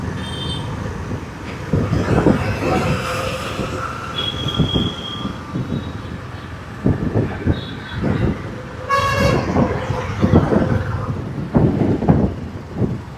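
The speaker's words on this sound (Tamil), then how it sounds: "சரக்கு ரயில் போய் கொண்டு இருக்கிறது." A freight train rolls across a large iron bridge, with wheels squealing, clattering rail joints and a horn toot, heard moderately close amid traffic noise on an auto ride.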